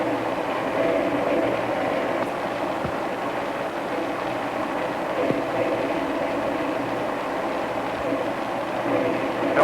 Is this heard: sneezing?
no